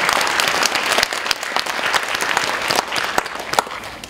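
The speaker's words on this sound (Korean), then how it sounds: "우리 박수를 힘차게 한번 치겠습니다" Vigorous clapping from a church congregation fills the space loudly and continuously for a few seconds, with sharp individual claps standing out from the crowded, close-sounding applause.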